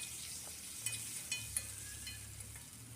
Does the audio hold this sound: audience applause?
no